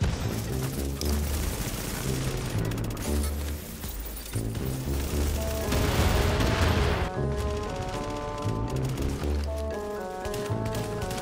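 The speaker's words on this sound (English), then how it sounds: "What are you guys shooting me for?" Rapid automatic gunfire in a multiplayer shooter video game, dense bursts of shots stacked over a tonal in-game music bed, continuous and loud for about eleven seconds.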